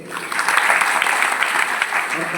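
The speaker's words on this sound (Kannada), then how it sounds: "ಜೋರಾಗಿ ಚಪ್ಪಾಳೆ ಕಟ್ಟ್ರಿ" An audience at a Jain Panch Kalyanak religious gathering claps loudly and continuously, a dense, close wash of applause that lasts the whole moment without breaks.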